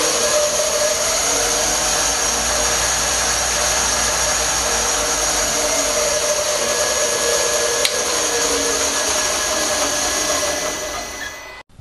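An upgraded drill/mill machine running under variable speed control, its motor giving a steady whine with a constant hum throughout, close and unbroken until it winds down at the end.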